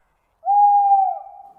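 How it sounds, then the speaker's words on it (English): A single long, steady owl-like hoot rings out at night after silence, clear and fairly loud, fading slightly toward the end. "It's just a stupid bird."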